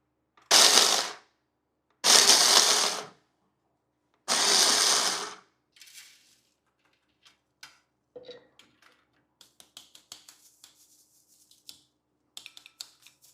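Sugar is ground into a coarse powder for bura sugar in a kitchen grinder, in three loud whirring bursts of about a second each, followed by faint scattered taps and clinks.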